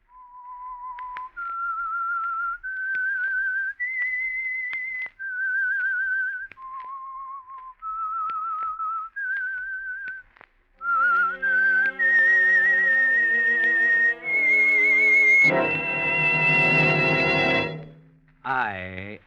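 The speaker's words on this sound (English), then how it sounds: "That whistle is your signal for the signal oil program" A lone whistler carries a slow, haunting melody of sustained notes for the Whistler radio mystery theme, clear and prominent. An orchestra then swells beneath it and a dramatic chord closes the phrase.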